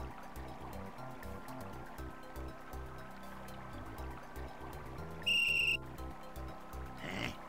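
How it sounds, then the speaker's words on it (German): A magic whistle from the Simon the Sorcerer video game gives a short, shrill, piercing blast, rising clearly over looping game music and a soft watery ambience. "Das ist eine magische Pfeife."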